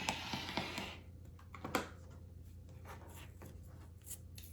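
Quilting fabric is cut with a cutting tool on a Dresden quilt block, opening with a quick burst of close scraping and slicing strokes, then fainter scattered taps and rustles as the fabric is handled.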